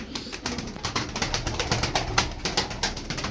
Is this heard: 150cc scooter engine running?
no